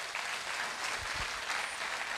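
An audience claps steadily throughout, a dense even wash of applause at moderate volume with no voices standing out.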